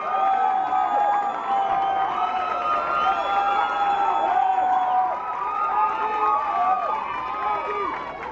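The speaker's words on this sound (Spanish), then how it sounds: "Si les gustó, un fuerte aplauso, por favor." An audience at a solo salsa dance competition roars after a performance, with sustained cheering, shouts and whoops carrying over scattered clapping. The crowd noise stays loud and continuous throughout.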